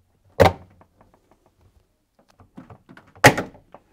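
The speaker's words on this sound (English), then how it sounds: "release the two clips from the top by prising them away with a flathead screwdriver" A flathead screwdriver prises the plastic clips off a fridge freezer's evaporator cover, two sharp loud snaps about three seconds apart, with faint plastic clicks and handling taps between them and no talking.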